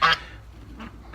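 Nearby duck calls, one loud honking quack followed by two fainter calls, heard outdoors alone with no talk.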